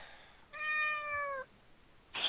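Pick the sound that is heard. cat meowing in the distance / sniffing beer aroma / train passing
cat meowing in the distance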